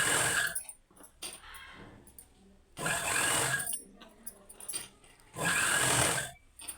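A sewing machine stitching cloth in short bursts, three loud runs of rapid whirring separated by quieter pauses with light handling noises.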